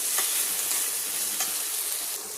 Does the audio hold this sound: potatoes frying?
yes